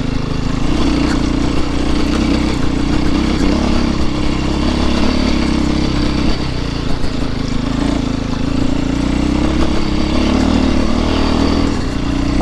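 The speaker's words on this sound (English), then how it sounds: "But these are such a fun bikes to ride." A motorcycle engine runs steadily while riding, a loud continuous mid-pitched drone holding a fairly even level throughout, with no speech over it.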